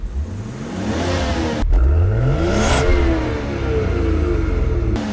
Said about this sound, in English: Let's hear those pops, dude.